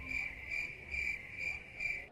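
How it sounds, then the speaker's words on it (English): A crickets-chirping sound effect plays, steady pulsed trills repeating about twice per second at moderate volume, clear and alone before cutting off. "Bring on the crickets."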